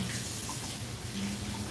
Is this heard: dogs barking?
no